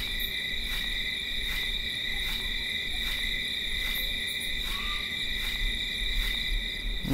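Steady night-insect drone in the RAKE game, a constant high buzzing chorus like cicadas or crickets holding evenly throughout, with faint regular pulses and no talking.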